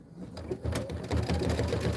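An embroidery machine stitches out a Kimberbell design, a steady rapid mechanical chatter that grows louder partway through and runs on without pause, with no talk over it.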